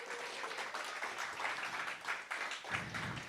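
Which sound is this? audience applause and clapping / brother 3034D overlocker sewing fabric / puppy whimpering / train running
audience applause and clapping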